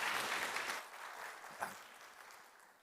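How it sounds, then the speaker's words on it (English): A church congregation applauds before a sermon, the clapping fairly distant and soft, starting full and then thinning out as it fades. "So let's give Doug a round of applause here as he brings the best sermon ever."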